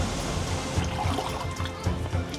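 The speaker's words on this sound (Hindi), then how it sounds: "मेरी आवाज से ज्यादा तो झरने की आवाज आएगी।" A waterfall rushes steadily in rainy Mawsynram, a broadband roar of falling water that stays close and loud the whole time, with no voices over it.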